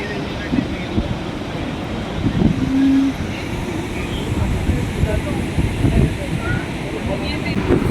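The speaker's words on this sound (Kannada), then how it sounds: "ನೀರು ಬೀಳ್ತಿರೋ ರಭಸಕ್ಕೆ ಅದು ನೀರೆಲ್ಲ ನಮಗೆ ಸಿಡಿತಾ ಇದೆ ಗೊತ್ತಾ" Water roaring down Gaganachukki-Barachukki waterfall, a continuous broad rushing roar heard close by and steady throughout, with faint voices and wind mixed in.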